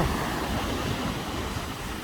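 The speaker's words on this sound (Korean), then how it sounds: "생각보다 파도가 너울이 세네요." Strong winter sea waves surge at Iho Tewoo beach on Jeju in a steady, loud roar, with heavy wind buffeting the mic throughout.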